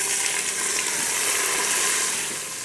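Chopped onion, tomato, a small piece of bell pepper and a small carrot sautéing in a pan for vegetable khichdi, giving a steady, close, dense sizzle that hisses continuously with no talk.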